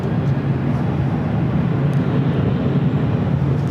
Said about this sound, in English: Now heading up for a north side takeoff